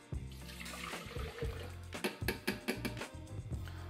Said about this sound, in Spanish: Vamos a empezar colocando en una licuadora el agua,